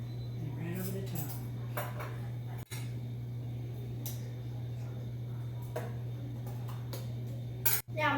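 Sugar and cinnamon are stirred together in a bowl, giving a series of light clinks and scrapes against the dish, close and moderate, with a steady hum and some speech in the background.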